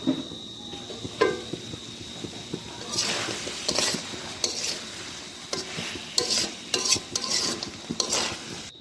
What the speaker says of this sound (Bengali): তারপরে দিয়ে দেবো আমরা চিকেন আমরা একসাথে ভালো করে মিক্স করে নেব, যেন একদম ভিতরে মশলা চলে যায়।